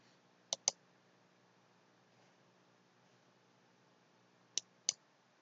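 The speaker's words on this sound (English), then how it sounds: "click the install now button" Two pairs of quick, sharp computer mouse clicks made while pressing an install button, one pair near the start and another about four seconds later, each crisp and close over a quiet background hiss.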